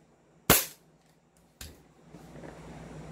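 An airsoft gun fires two sharp, close pops about a second apart, the first much louder, followed by a low mechanical hum.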